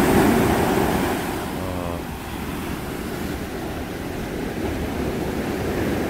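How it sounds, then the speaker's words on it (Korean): Waves wash onto a beach at Gamchu, a soft continuous surf hiss that swells and fades gently, steady and moderately distant with no talking. "파도 소리 좋습니다."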